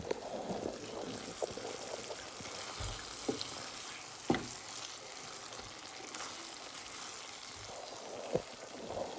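Vegan BBQ jackfruit cooks down in a pan with a soft, steady sizzle and bubbling, broken by a few sharp pops and spatters, fairly quiet and with no talking.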